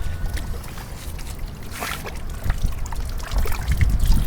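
Dirty water sloshing and pouring out during bike washing outdoors, with irregular splashy trickles and a couple of heavier splashes toward the end, fairly close.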